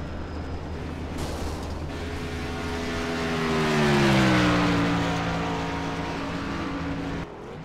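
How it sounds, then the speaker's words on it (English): A race car engine roars steadily on the track while its tires burn, and the pitch sweeps upward in a long sustained howl that swells louder toward the middle and then settles. "just burning down those tires"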